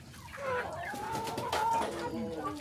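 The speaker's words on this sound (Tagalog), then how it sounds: "Ito yung original na tandang." A rooster gives a drawn-out, wavering call close by, with other birds clucking faintly underneath.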